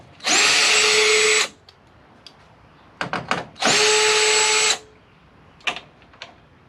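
A cordless power tool spins out 10 mm bolts on a Toyota Tundra during a cold air intake install, with two loud sustained whirring bursts, each about a second long, separated by brief clicks and clatter of the bolts.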